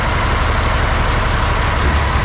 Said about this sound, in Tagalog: pinaandar na makina